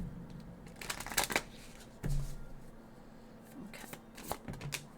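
Cards are shuffled by hand for a tarot-style card reading, two quick riffling bursts with soft taps between, close and quiet, with a brief spoken word.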